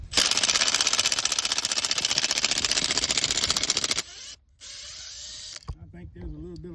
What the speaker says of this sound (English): We're going to get the wrench in here, make sure we're on reverse.